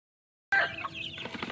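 A mother hen clucks close by among her newly released chicks, the calls starting abruptly after a moment of silence and continuing in a busy, uneven stream with no voices.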